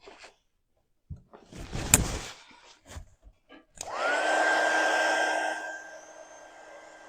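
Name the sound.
hair dryer drying wood cutting board decor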